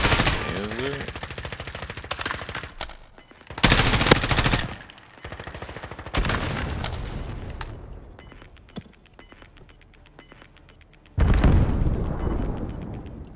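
Automatic gunfire rattles out in loud, close bursts during a Call of Duty: Modern Warfare (2019) Warzone trio match, with heavy volleys broken by short quiet gaps and a final sustained burst.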